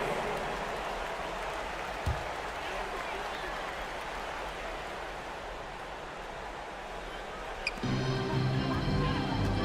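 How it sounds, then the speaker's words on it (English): A sustained roar of crowd applause and cheering for the Knicks City Kids at an NBA basketball video game arena fills the whole stretch, with a brief change in tone near the end. "That's a big round of applause for your Knicks City Kids"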